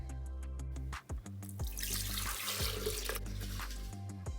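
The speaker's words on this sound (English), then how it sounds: "we're gonna pour it into our high-speed blender" Soaked rice and water pour and splash into a high-speed blender for a couple of seconds, with clinks and rattles before and after.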